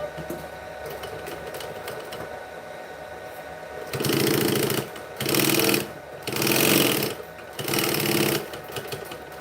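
A sewing machine runs in four short bursts of rapid mechanical stitching with pauses between, backstitching a garment seam, with quieter room noise in the gaps.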